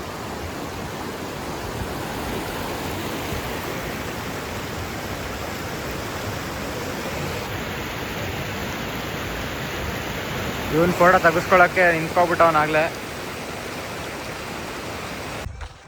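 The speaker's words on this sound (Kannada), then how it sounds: "ಇದೇ ನೋಡಿ ಮಂಚಿನ ಬೆಲೆ ಡ್ಯಾಮು ಸ್ವಲ್ಪ ಮಾತ್ರ ಓಪನ್ ಮಾಡಿರೋದಕ್ಕೆ ಇಷ್ಟು ಜೋರಾಗಿ ಬರ್ತೈತೆ" Water rushes from the partly opened Manchanabele dam in a steady, loud broadband roar that fills the whole stretch, with a person talking briefly over it near the end.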